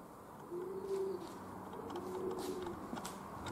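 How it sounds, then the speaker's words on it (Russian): Pigeons cooing in the open while a peregrine falcon chases them, a few soft, drawn-out coos at moderate distance over steady outdoor background noise. "Вот так вот гоняем голубей."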